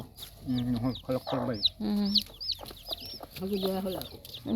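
A brooding hen nesting in bamboo clucks in short repeated phrases close by, with other chicken calls mixed in and faint background voices.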